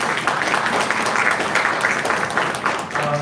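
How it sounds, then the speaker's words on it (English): Sustained audience applause after a panel discussion at a student entrepreneurship summit, steady dense clapping at even volume throughout. "Please give a huge round of applause."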